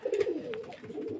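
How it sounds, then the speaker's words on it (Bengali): Tumbler pigeons cooing up close, a soft, continuous throaty murmur with a few rising and falling phrases, clear and alone. "এই একখানা পেয়ার দেখতে পাচ্ছেন বেলে পায়রা"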